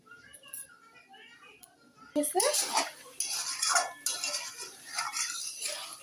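A lid and utensils clatter against a pot of country chicken curry with potatoes and papaya: a quiet stretch, then several loud metallic clanks and scrapes close by.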